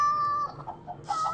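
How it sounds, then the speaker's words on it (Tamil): A cat in the Minecraft video game giving short synthesized meows, a couple of brief mews over a quiet game background with no speech. "பூனை மறுபடியும் வந்துக்கிட்டு இருக்கு."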